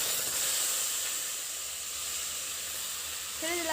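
Boiled taro stalks, salted and prepared for a kichu dish, sizzle and hiss steadily in a hot pan. The broadband hiss stays fairly even and close, with a brief clink near the end.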